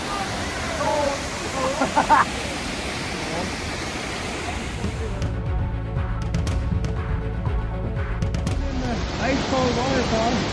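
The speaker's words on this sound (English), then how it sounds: "Ice cold waterfall." An ice-cold waterfall at Ruby Falls roars as a steady, full rush of falling water, close and continuous, with some talk at first and tonal hums partway through.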